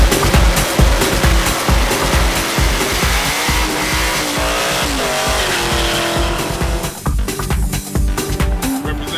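Race cars at St. James Raceway on Nevis: loud, close engines roar and rise and fall in pitch with revving, and the tires squeal throughout under a dense, continuous racing din.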